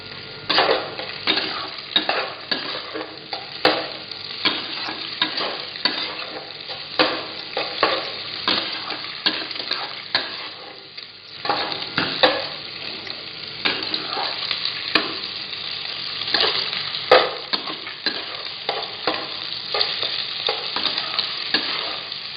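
Soya chunks coated in cornflour sizzle steadily as they fry in a pan, with a spoon stirring and scraping at an irregular, frequent rhythm. The frying is close and moderately loud, with no voices.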